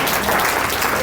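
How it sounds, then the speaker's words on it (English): An audience claps steadily at a high school distinguished alumni awards ceremony, a dense, even burst of applause filling the room with no talking over it. "you should clap your hands"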